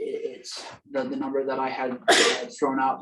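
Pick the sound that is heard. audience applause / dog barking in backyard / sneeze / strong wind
sneeze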